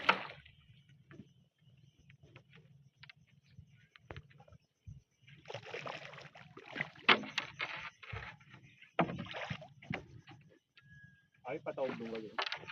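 A small fishing boat's motor drones low and steady as it heads out to sea in calm weather. It sits faintly under close, intermittent talk, with occasional knocks and water sounds.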